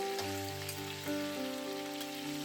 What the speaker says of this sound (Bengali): এখানে সর্ষে তেল নেওয়া হয়েছে আর প্রথমেই আলুটাকে একটু ভেজে নেব